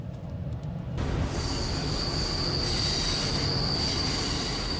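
An Amtrak Capital Corridor train pulling into Martinez station, heard from on board: continuous loud rumble and rail noise with high, sustained wheel squeal rising over it as the train slows.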